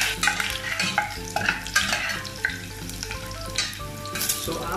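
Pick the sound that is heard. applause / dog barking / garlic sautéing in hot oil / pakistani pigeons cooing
garlic sautéing in hot oil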